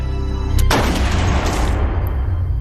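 A single loud gunshot in a film as a man shoots himself in the head, a sharp blast followed by a booming, ringing decay over a low rumbling score.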